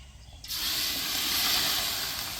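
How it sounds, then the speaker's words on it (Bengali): Chicken meat, stripped from the bone, dropped into hot oil in a wok; after a brief quiet moment a loud, sudden hiss erupts and holds as a dense, steady sizzle, close by and with no talking. "মাংসগুলো তেলে দিয়ে দিব ভাজার জন্য।"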